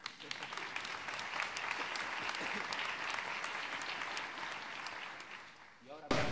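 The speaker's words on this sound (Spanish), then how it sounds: "aplauso para vosotros" Audience applause at a New Year's concert in Avilés, a sustained round of clapping that swells and holds before cutting off near the end, where a voice comes in.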